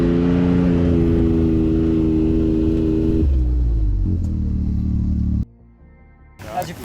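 An off-road buggy's engine roars loud and close while driving on a race track, holding a steady revving drone before the note drops and cuts off near the end.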